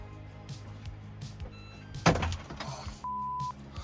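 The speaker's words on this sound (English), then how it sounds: "Press 2 seconds to open the door." A front-loading washing machine door on a 40-foot sailboat pops open with a sudden thunk, followed by a brief clatter and a steady electronic beep from the machine.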